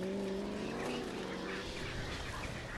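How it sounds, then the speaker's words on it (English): A very fast car drives through the opening scene of I Am Legend, its engine a loud sustained roar with rising and falling tones, close and continuous with no talk. "A man driving a very fast car."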